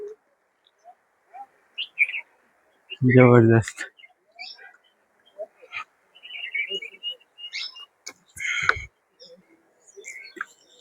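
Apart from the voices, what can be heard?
birds chirping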